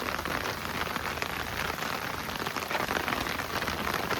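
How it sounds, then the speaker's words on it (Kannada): Heavy rain pours steadily and loudly, a dense continuous hiss of drops beating on surfaces with no pauses, filling the whole stretch without any voices. "ಮಳೆ ಬರ್ತೈತೆ, ಜೋರಾಗಿ ಮಳೆ ಬರ್ತೈತೆ"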